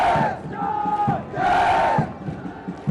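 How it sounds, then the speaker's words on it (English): Cadets on a ship's quarterdeck give two loud, sustained cheers in unison, each a drawn-out group shout lasting about half a second to a second, with a short gap between them. "They cheer the cadets of the passing out course"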